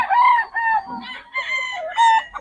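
Several three-year-old roosters on a farm crow loudly and close by in overlapping calls, with short gaps between the crows.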